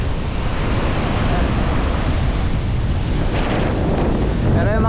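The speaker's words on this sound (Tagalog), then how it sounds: "ang laki ng alon." Loud, continuous roar of surf and heavy wind buffeting the microphone, with waves churning close by and no pauses.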